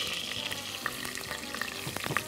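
A steady, close crackling sizzle of butter and flour frying in a pan, with light scraping from stirring, no voices.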